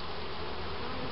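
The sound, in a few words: bees buzzing around an open beehive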